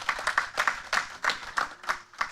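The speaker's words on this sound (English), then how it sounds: "Round of applause to Ravon." An audience at a high school debate competition final claps in a quick, uneven patter of individual hand claps, moderately close and fairly light, without cheering or talk.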